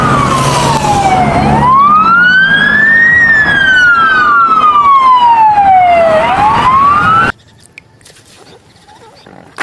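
A loud electronic toy police car siren wails in a slow rising and falling sweep for about seven seconds, then cuts off abruptly into near silence.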